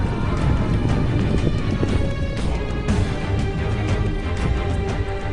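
Rapid, dense hoofbeats pound continuously, like many cavalry horses galloping together in a charge, loud and close with a rough, rumbling texture.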